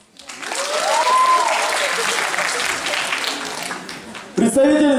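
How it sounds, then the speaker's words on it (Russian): Audience at a university beauty pageant applauding, a dense steady round of clapping with a rising voice or tone over it early on, then a presenter's voice cutting in near the end. "Ваши аплодисменты, друзья."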